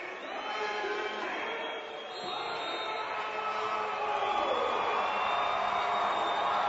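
A crowd of more than 4,000 at the Amarillo Civic Center roars during an indoor championship football game against Laredo, a broad, sustained wash of cheering that swells louder toward the end.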